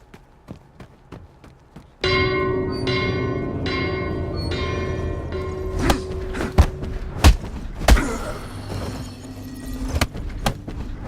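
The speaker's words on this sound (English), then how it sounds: "Ring the bell?" A bell rung in the Absolver video game strikes with a loud resonant clang, then a series of heavy thuds and repeated metallic strikes follow with ringing tones lingering beneath.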